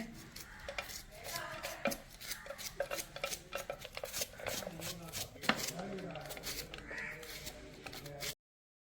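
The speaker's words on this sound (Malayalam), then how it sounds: "നമുക്ക് ഈ പാവയ്ക്ക് ഒന്ന് കൊത്തി അരിയണേ" Bitter gourd being finely chopped with a knife, a rapid, irregular run of close knocks on a cutting board, with someone talking over it and a crow cawing in the background.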